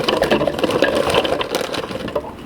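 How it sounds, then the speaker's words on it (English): Cookies being chopped in a food processor make a loud, busy clatter of rattling, grinding pieces against the spinning blade, continuous and close with uneven bursts, easing off slightly toward the end. "So I'm going to put them in the food processor and chop them up with some butter"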